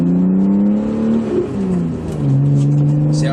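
The straight-piped exhaust of a BMW E36 revs up and eases off in a loud, raspy engine drone, close to the listener.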